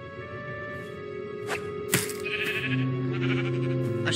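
Synthetic sheep bleats in Minecraft: Story Mode rise over a steady electronic background hum, with a couple of sharp clicks and a sustained tonal drone near the end.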